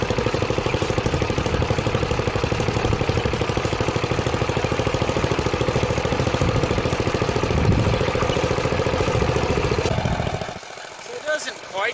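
A junkyard Ditch Witch C99 trencher engine runs steadily after being throttled up, a loud continuous chugging drone that holds for about ten seconds before dropping away near the end.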